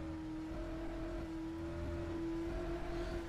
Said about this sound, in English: Love the sound of this car, though.